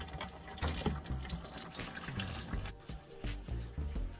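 Fluid draining from an engine during a Magnum cam and head swap: a steady trickling, splashing flow of liquid running continuously, close and moderately loud, with no voices.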